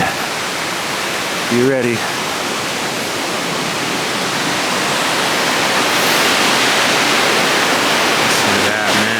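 Loud, steady roar of a powerful waterfall at Whatcom Falls Park, a dense rushing wash of water that fills the whole stretch; someone speaks briefly near the start over the torrent.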